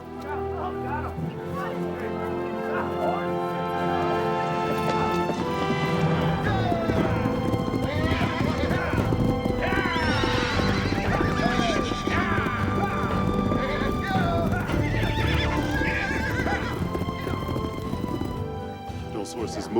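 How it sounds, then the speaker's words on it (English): Horses gallop in a Western action film, a dense clatter of hooves with repeated neighs and whinnies over a loud, continuous rumble, with voices and music mixed in. "The horses are coming!"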